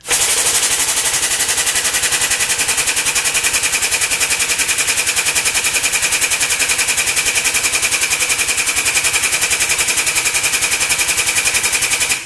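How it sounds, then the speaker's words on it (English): Grizzly air/hydraulic shop press running slowly on its air trigger: a loud, continuous, rapid mechanical rattle like a pneumatic pump, steady and unchanging throughout. "here's an example of how slow this press goes when you hit the trigger"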